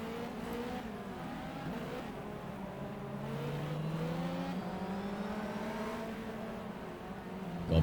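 Ferrari 360 Modena race cars roar through Magny-Cours in the racing game GTR, engines revving and shifting pitch steadily as the cars run close together, loud and continuous.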